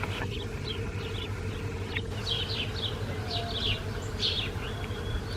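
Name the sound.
honeybees buzzing under a redbud tree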